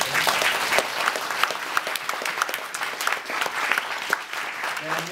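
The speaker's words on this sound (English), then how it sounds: "let's give Creative Horizons a wonderful applause for launching this contest" Audience applause after a call to thank the organizers of a contest at an awards event: dense, steady clapping from a crowd, fairly loud and sustained throughout.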